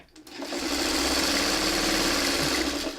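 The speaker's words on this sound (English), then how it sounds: "I'm just gonna sew these together real quick." A sewing machine runs steadily for nearly three seconds, stitching quilt block pieces together, with a continuous close whirring hum after a brief start.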